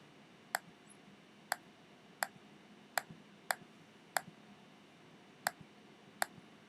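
Computer mouse clicks at a desk while a Scratch interactive poster is set up, eight sharp isolated taps spaced irregularly about a second apart over a quiet room background.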